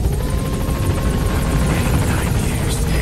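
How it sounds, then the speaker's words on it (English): A helicopter hovers close by, its rotor thudding in a loud, continuous rhythmic beat over roaring engine noise throughout. "Chopper. I hear it."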